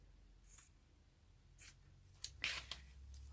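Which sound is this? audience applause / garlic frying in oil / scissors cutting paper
scissors cutting paper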